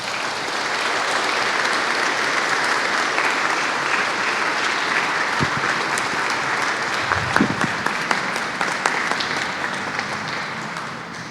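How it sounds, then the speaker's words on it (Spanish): A church congregation breaks into sustained applause for newly commissioned members, steady dense clapping filling the room at close range with no one speaking over it. "Un aplauso a estos hermanos."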